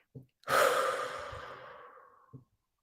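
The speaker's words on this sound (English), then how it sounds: "take a nice deep breath" A single long, deep breath is drawn and released as a loud, breathy exhale that fades out gradually, with soft short breaths just before and after it.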